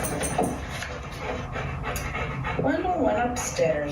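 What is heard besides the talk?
dog whining in the background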